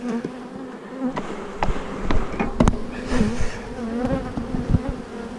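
Agitated honeybees swarm around an opened hive, giving a dense, continuous close buzz with individual bees droning past the microphone and a few soft knocks from handling the frames.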